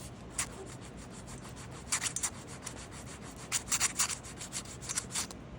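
A wax model is worked over by hand with back-and-forth rubbing and filing strokes, heard as quiet, close scraping bursts in irregular clusters against a faint background.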